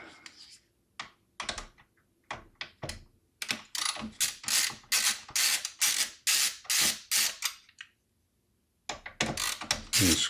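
Small screws are undone from a Minisforum 795S7 mini PC with a screwdriver. Close, dry ratcheting clicks come in short bursts, with a few quiet gaps between turns and a longer pause near the end.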